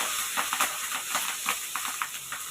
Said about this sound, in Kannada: ಕರ್ಬೇವಿನ ಸೊಪ್ಪು ಬೆಳ್ಳುಳ್ಳಿ ಎರಡನ್ನೂ ಚೆನ್ನಾಗಿ ಹುರ್ಕೋಬೇಕು